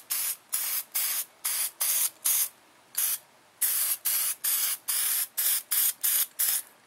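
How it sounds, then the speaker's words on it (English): An aerosol can sprays lubricant in short, regular bursts onto rear brake parts of a 2003 Nissan Altima, about a dozen sharp hisses with brief gaps, close and loud, with no voices. "we're going to spray a fairly liberal coating of the stuff on there"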